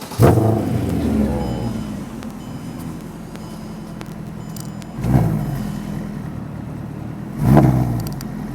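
Ferrari 430 engine cranks and fires with a loud burst, settles into a steady idle, then gets two sharp blips of revving close by, with no talk over it.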